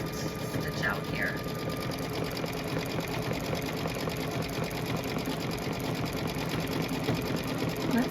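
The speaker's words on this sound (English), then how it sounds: "this is going to start the stitching for the October" An embroidery sewing machine stitching lettering on a Kimberbell pillow panel, a rapid, even mechanical needle rhythm running continuously and close, with a voice talking faintly over it.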